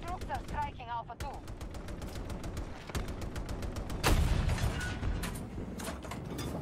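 Main gun of a T14 Armata tank firing in Battlefield 2042, with a loud boom standing out amid rapid machine-gun bursts and battlefield clatter, while a player talks over the fight.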